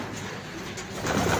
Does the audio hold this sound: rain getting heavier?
no